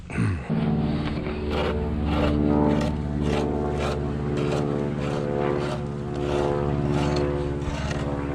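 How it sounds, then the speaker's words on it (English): A propeller plane drones overhead at steady volume, its engine hum continuous, with rhythmic strokes of a file scraping a sharp edge off a hypertufa piece nearby in the foreground. "I have a plane keeping me company here this morning"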